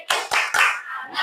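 A school class claps a rhythmic chant together, three sharp group claps in quick succession followed by another, loud and close.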